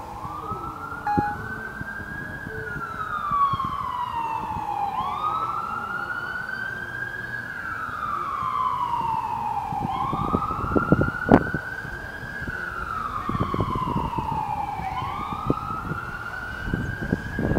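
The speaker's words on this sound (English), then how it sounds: "fire engine," Wailing emergency sirens rise and fall in repeated long sweeps, fairly close, with scattered clicks and rumbling traffic beneath.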